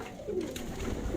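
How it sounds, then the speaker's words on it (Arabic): Homing pigeons coo softly close by, a low rolling burble repeated through the stretch with faint background rustle and no talk. "ده حمام زاجل"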